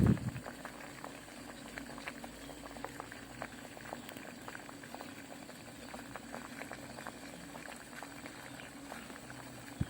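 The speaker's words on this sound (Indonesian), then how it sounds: "Setelah mendidih beberapa saat, kita tunggu sebentar, biarkan mendidih dulu beberapa menit." Water boils with anting-anting plant in a pot for an herbal decoction, a steady close stream of small bubbling pops and patters lasting about ten seconds without speech.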